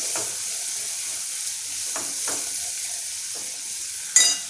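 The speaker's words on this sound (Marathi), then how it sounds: "आता मी परत एकदा याला व्यवस्थित हलवून घेते" A spoon stirs a sour tomato dal curry in a pot on the stove, with a steady soft sizzle and several short scraping strokes at irregular intervals. The last stroke is the loudest.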